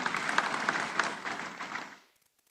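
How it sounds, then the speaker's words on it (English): Conference audience at an African water partnership event gives a short, warm round of applause that rises briefly and then dies away into silence. "Let's give him a round of applause as he comes through."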